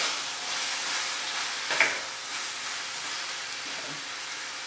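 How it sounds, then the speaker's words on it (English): A pan of food for a spaghetti squash meal hisses with a faint, steady sizzle, with one brief scrape of a utensil stirring partway through, fairly quiet and close, without speech. "I'm just going to give that a stir real quick"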